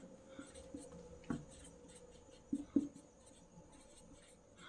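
Chalk or marker writing out a Class 10 maths solution on a board during a Euclid division lesson, heard as faint, sparse strokes and taps in a quiet room with a low voice in the background.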